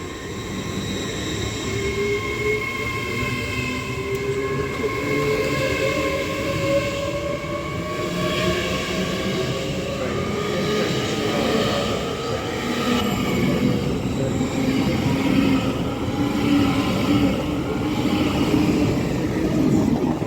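A GWR Class 802 train departing Reading station for Plymouth, its engine hum and wheel noise rising and sliding in pitch as it pulls away, steady and fairly close for the whole stretch, with no talk.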